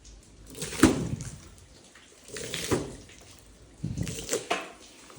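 Leftover water splashed onto a glass pane in a few separate bursts, each a short wet splash trailing into dripping, fairly quiet with pauses between.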